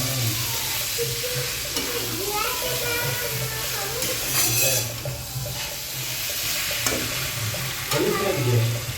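Potatoes frying in a pan with pointed gourd in a Bengali aloo potol dish, stirred continuously so a steady sizzle runs under repeated scraping and clattering of the spoon, close and fairly loud throughout.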